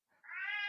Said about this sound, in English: That's my cat, by the way. She's being super loud.